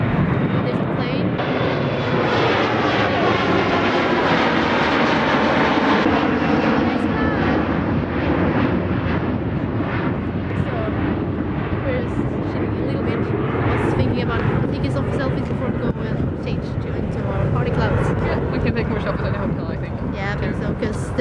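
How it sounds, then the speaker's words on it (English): A fixed-wing airplane passes overhead outside a convention venue in London, a loud, sustained engine roar that swells and lingers across the whole stretch while people chat nearby. "There's a plane."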